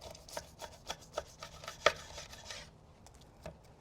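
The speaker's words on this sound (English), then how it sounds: "Let's just cut into this thing right in the middle." A knife saws into a barbecued St. Louis-style pork steak with mop sauce, a series of sharp, close scraping strokes and clicks against the plate, the loudest near the middle, then tapering off into quiet.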